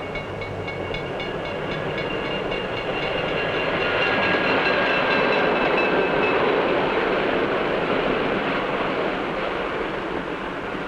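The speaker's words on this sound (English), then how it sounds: "the train is approaching a station" A 1950s passenger train rolls toward a small station, a loud, steady rumble of wheels and carriages with faint rhythmic clacking on the rails throughout.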